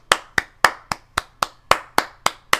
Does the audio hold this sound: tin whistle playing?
no